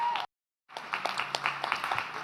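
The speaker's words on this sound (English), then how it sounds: "let's give him another round of applause for being here" Studio audience applause for a guest at a Sunday gathering: a brief burst of clapping, a short silence, then a fuller round of dense, overlapping claps that carries on steadily.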